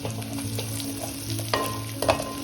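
Ginger garlic paste frying in a pan with onions and green chillies for a raw prawn and okra pulusu, giving a steady close sizzle broken by a few sharp stirring scrapes and clicks near the end.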